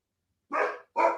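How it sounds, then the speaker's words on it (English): Dog barking indoors, two short loud barks close by in quick succession after a moment of silence. "my dog's barking."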